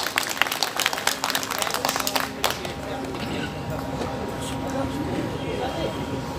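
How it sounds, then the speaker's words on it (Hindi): Crowd applause at a political gathering welcoming a speaker onstage, with sharp clapping at first that settles into a steady wash of distant applause mixed with crowd noise and voices. "तालियां श्री के.पी. चौधरी साहब"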